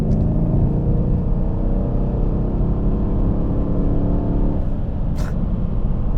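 A Mercedes CLS63 AMG V8 accelerates, heard from inside as a steady, loud, low rumble of engine and road noise that stays smooth and refined.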